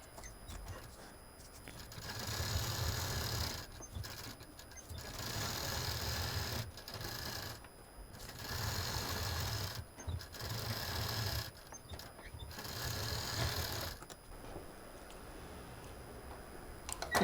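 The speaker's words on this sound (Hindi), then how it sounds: "यहाँ पर भी एक मशीन चलाते हुए, दाब मशीन चलाते हुए एक चाप की दूरी पर एक मशीन और चला देंगे।" A sewing machine stitches a fabric face mask with a cap, running in bursts of steady mechanical whirring. Short pauses separate the runs, and the sound stays moderately quiet and close.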